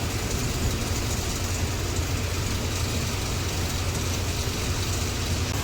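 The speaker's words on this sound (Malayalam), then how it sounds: "അത്യാവശ്യം നല്ല മഴയുണ്ട് ഇവിടെ." Heavy night rain around a loaded truck on the Mumbai–Pune Expressway, a dense, unbroken wash of rain noise blended with a low engine drone, steady and close with no talking.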